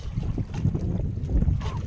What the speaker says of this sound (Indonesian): angin sudah mulai datang